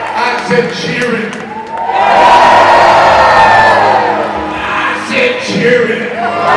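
A packed room at the New Jersey Hall of Fame erupts in loud, sustained cheering and yelling, rising to a peak and then gradually subsiding into scattered shouts.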